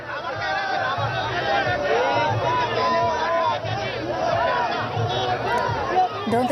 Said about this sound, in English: So you can hear a lot of sloganeering, huge crowds that have gathered there.